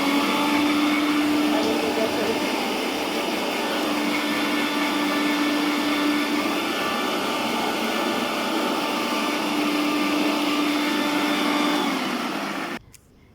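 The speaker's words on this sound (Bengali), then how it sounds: "এই যে আমি এখন ব্লেন্ডারে ব্লেন্ড করব" A loud, steady motorized whir runs continuously for over ten seconds, like a kitchen blender at full speed, then cuts off abruptly at the end.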